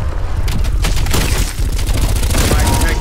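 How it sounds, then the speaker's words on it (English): Stun grenade blast in Call of Duty Cold War Zombies, a loud booming burst followed by rapid crackling gunfire-like pops that fill the whole stretch. "stun grenade out"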